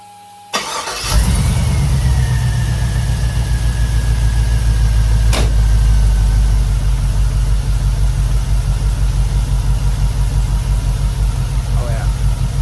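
The engine of a Chevrolet C10 pickup truck cranks and catches within the first second, then settles into a steady, even idle that runs on loudly and close by.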